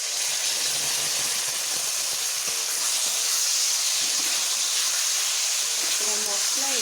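Ground spice paste sizzles loudly with potatoes and radish frying in hot oil, a dense, steady hiss with light spatters, and a voice speaking over it.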